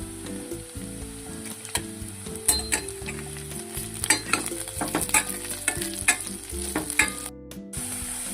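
Capsicum sizzles loudly while frying in a pan for paneer bhurji, with steady spatula stirring and scraping throughout and a few sharper clacks, no voices.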